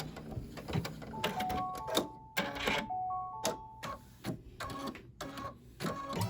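An embroidery machine stitches over existing stitching with rapid mechanical clatter and ticking, broken by short pauses and thin whirring tones, close up and fairly quiet.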